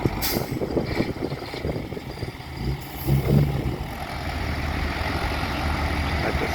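A heavy Hino truck's 6SD diesel engine idles with a steady low rumble, a brief hiss and clunk near the start, continuous and close.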